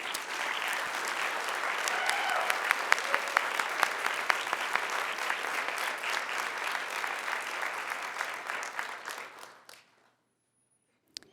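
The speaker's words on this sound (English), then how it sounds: "Please join me in giving them a round of applause." An audience at a city commission meeting applauds steadily for several seconds, then the clapping thins and fades out to near silence.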